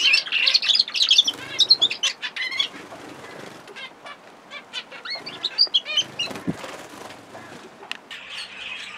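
Finches and Fife canaries sing in an outdoor aviary flight, with bright overlapping chirps and trills, bursts of wing flapping and busy song, moderately close.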